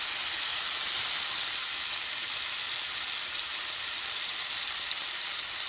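Spices frying in a pan with onion and tomato for a dried fish curry give a steady, close sizzle and hiss that holds evenly from start to finish, with no talking.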